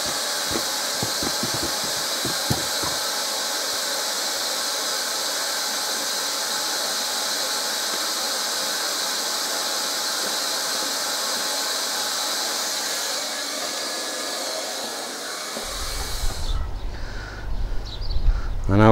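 A hot-air plastic welder tacks koi pond liner strips together, giving off a continuous loud hiss with a faint high whine, then ending in clunks and rustling handling noise.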